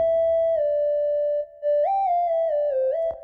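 A bright synth lead in FL Studio holds a sustained note, then glides smoothly up and down between pitches with a slide effect, loud and clear with no talking.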